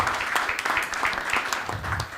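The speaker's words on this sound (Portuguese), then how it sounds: "Uma salva de palmas ao doutor José Roberto Maluf" Audience giving a round of applause for a guest at a public event, steady crowd clapping with distinct claps throughout, moderately loud and continuous, without talk over it.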